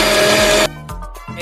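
A video game blender whirs loudly for a moment blending coconut milk and sugar, then cuts off, leaving a few fainter mechanical clicks and hums.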